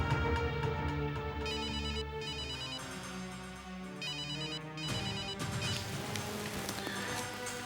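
A telephone rings repeatedly in short electronic bursts over a dense background of music or ambience, with no talking, in an indoor scene from a Hindi TV serial.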